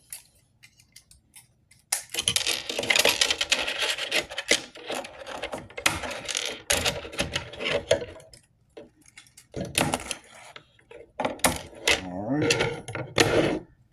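Scraping and rasping as a homemade car model tire is cut by hand, irregular bursts of close cutting strokes separated by short pauses, faint and intermittent.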